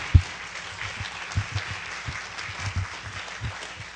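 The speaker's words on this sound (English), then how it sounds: "let's give our panel experts one round of applause" A steady burst of clapping from a seated audience at a neurological forum, applauding a panel of experts, dense and continuous for several seconds with no talking.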